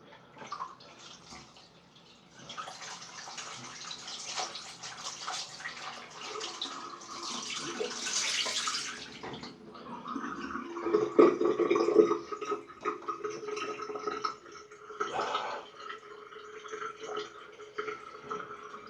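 Cold water runs steadily from a tap nearby, a hissing splashing stream that swells louder midway, with occasional clinks and knocks.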